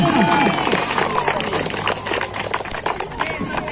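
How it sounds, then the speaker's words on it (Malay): Crowd applause at a primary-school football final breaks out as clapping and cheering, a dense wash of hands and voices, while an announcer keeps talking over the noise through a loudspeaker. "Tepuk tangan semua."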